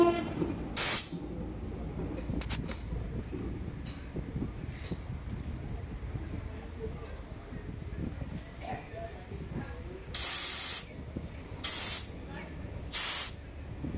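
A Toyota Allion CVT gearbox with a slipping drive chain, running with a steady mechanical whir and hiss, broken by several short, loud hissing bursts.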